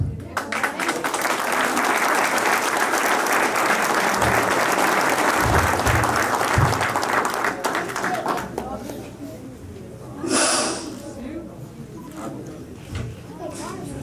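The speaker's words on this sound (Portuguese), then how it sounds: "uma salva de palmas ao nosso candidato" A crowd gives a candidate a round of applause after his speech at a political rally, a dense, loud clatter of clapping that holds for about eight seconds and then fades out into murmuring voices.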